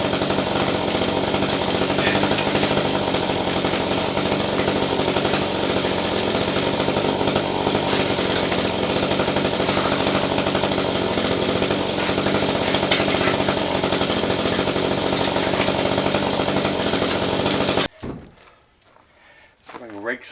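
A Craftsman 20V cordless hedge trimmer mounted on a pole runs continuously while cutting brush outdoors, a loud, steady buzzing motor drone with chattering blades that stops abruptly near the end.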